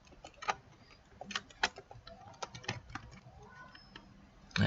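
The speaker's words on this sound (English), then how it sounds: "You can just type like this." Rapid keystrokes on a computer keyboard while entering text-analysis code, irregular clicks and short bursts close to the microphone, ending in a louder thump.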